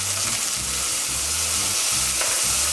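Ginger paste sizzling with cumin and asafoetida in hot oil, a loud, constant, close frying hiss with spattering crackles and a low rumble underneath, and no voice over it.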